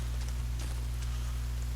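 Rain falls in the survival video game The Forest, a soft, even patter over a low steady hum that lasts throughout at a fairly quiet level with no speech.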